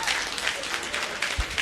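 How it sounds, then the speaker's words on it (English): An audience at a dc949 hacker conference talk breaks into applause, a short burst of scattered clapping from a room crowd, fairly loud and close, over about two seconds. "Round of applause."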